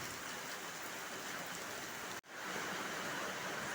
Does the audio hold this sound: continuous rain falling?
yes